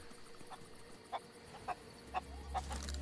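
Chicken clucking in the pirate video game Sea of Thieves, a handful of short soft clucks spaced irregularly over a quiet ambient game background, with a low rumble near the end.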